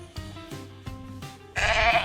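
Sheep bleat on a farm in a series of short, nasal calls spaced apart, fairly close, followed by a louder rustling burst near the end.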